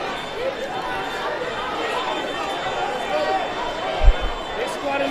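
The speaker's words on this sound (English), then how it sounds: "There's a whole crowd protesting" A street protest crowd fills the scene with a dense, steady wash of many voices chattering and calling at mid distance, with a brief louder thump near the end.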